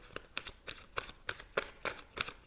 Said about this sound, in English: shuffle these again